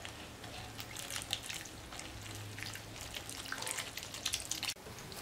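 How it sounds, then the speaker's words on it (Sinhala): Water trickles and drips little by little into a flour batter being mixed for roti, a steady, close splashy pouring with small irregular drops and no voices. "අපි දැන් වතුර ටික ටික දාලා දිය බැට එකක් හදාගමු."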